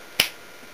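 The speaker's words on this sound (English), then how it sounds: "I think snapping my fingers" One crisp finger snap, close and dry, standing alone over faint room hiss.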